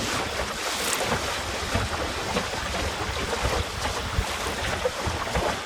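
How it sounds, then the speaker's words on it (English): A sailing dinghy cruising in a moderate breeze, with continuous wind rush buffeting the microphone over water sloshing against the hull, loud and steady throughout. "it's a good sail this, nice bit of breeze, not too much."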